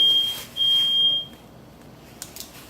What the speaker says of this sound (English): Sorry guys, had to go handle that alarm.